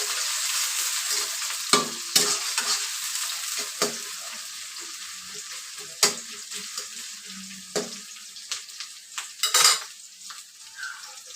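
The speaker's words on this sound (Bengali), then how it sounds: "পেঁয়াজটা আমি লাল লাল করে ভেজে নেব।" Chopped onion sizzling in oil in a pan for chicken kasha, with a steady hiss of frying under repeated scrapes and clinks as a spatula stirs it, loud knocks against the pan scattered through.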